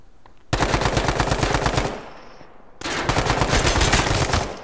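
Automatic gunfire in the video game H1Z1, loud and close, two long rapid bursts separated by a short pause.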